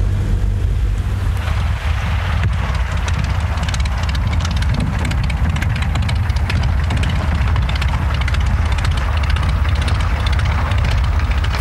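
Engine drone of a vintage Tiger Moth biplane in flight, a former military trainer, heard close and steady throughout, loud and continuous with rushing wind, no talking.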